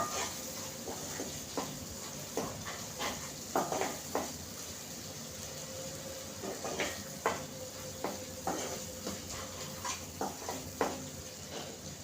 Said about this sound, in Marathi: चांगल्याला आपल्याला चांगला हलवायचं आहे याला तेल सुटेपर्यंत अगदी आपल्याला हलवायचं आहे